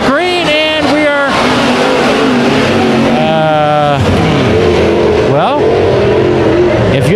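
Race cars roar and accelerate together at a green-flag start on the Ocean Speedway track, engines rising and falling in pitch loudly and close, with a commentator talking over them throughout.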